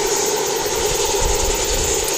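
Nine-year-old Air New Zealand Airbus A320 at Wellington Airport about to depart for Auckland, a steady distant jet engine whine and rumble holding evenly throughout with no talk.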